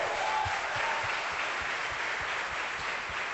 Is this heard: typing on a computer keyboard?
no